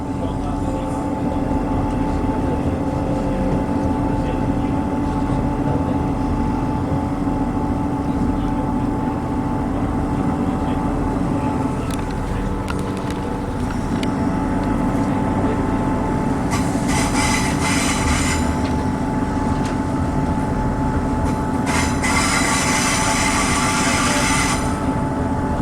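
A passenger train rolls into Edinburgh Waverley station with a loud, steady rumble of wheels on track, a low hum from the carriage, and two bursts of high wheel squeal near the end.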